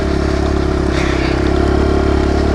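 Kawasaki KLX 140 dirt bike engine running steadily loud and close, a continuous throaty idle-to-rev drone with a slight rise in pitch near the middle, no talking.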